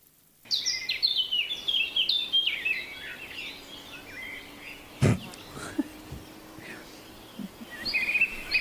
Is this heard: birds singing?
yes